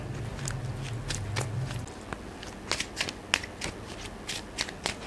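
Tarot-style cards are shuffled with a brief riffling burst, then drawn and laid down in a series of crisp slaps and flicks during a card reading, close and clear without talk.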